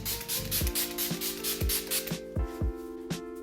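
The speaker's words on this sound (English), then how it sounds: "I'm gonna go ahead and set using my Makeup Forever Mist and Fix." Makeup Forever Mist and Fix setting spray is misted onto a face in several quick hissing spritzes, heard under background music with a beat.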